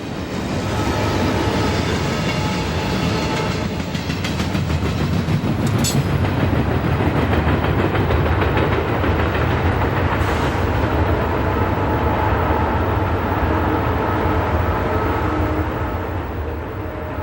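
A Conrail freight led by two B36-7 locomotives rushes past a signal bridge toward Conway, a loud steady roar of wheels and cars with rhythmic clickety-clack throughout, close and continuous.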